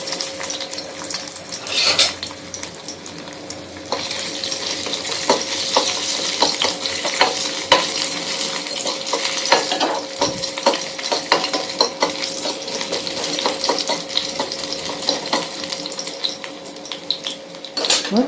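Ginger pieces fry in oil in a pan, a continuous close sizzle with frequent clinks and scrapes of a spoon stirring throughout.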